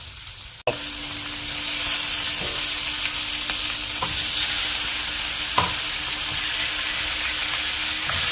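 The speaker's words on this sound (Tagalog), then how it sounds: "Gisa ng bawang, sibuyas, luya, at saka sibuyas." Garlic, onion and ginger sauté in a pan, sizzling loudly and steadily after an opening clack, with occasional light stirring taps against the pan, close up and without speech.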